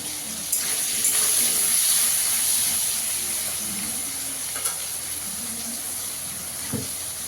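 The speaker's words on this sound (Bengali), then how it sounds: "নুন দিয়ে আলুটা একটু লাল করে করে ভেজে নেবো।" Potatoes sizzle steadily in a pan with turmeric and salt for an aloo begun dish, a constant bright hiss close by with a few soft clinks and scrapes.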